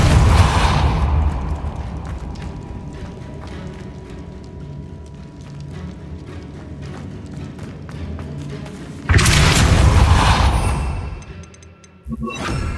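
Depulso force-push spell from the Hogwarts Legacy video game, a loud booming blast with a whooshing rush that swells again near the end, over continuous game ambience.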